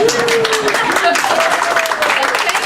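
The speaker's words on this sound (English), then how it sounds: "It's time to applaud." An audience applauds at a poetry reading with steady, close clapping throughout, while voices talk and call out over it.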